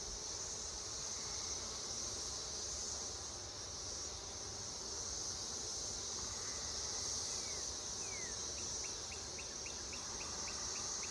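Honeybees in an open mating nuc hive during a beekeeping inspection give a steady, close, continuous hum and buzz, with a few faint chirping sounds near the end and no talking.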